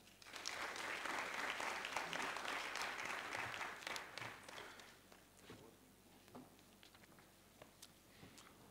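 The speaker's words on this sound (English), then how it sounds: "give our Honorable Minister a resounding round of applause once again" An audience at a live meeting in Nigeria applauds the Honorable Minister, a dense, loud round of clapping that carries on for several seconds before thinning out into scattered claps.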